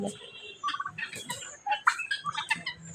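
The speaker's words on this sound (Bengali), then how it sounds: "কতগুলো তিতি মুরগি প্লাস এই যে টার্কি মুরগি" Turkeys and guinea fowl call in a poultry yard, a burst of sharp, chattering cries and clucks that starts after a quiet moment and keeps coming in quick irregular bursts, close by.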